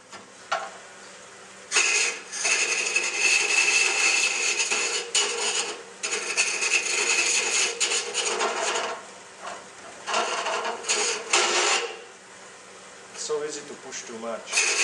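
A large deep-hollowing cutter on a wood lathe scrapes through a turning piece in loud, sustained rasping bursts with short pauses as the tool moves back and forth.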